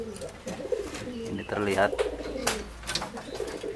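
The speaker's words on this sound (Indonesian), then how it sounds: "ini lagi review burung merpati pelikan ya" Pelikan pigeons coo in soft, repeated throaty bursts close by, with someone talking over them.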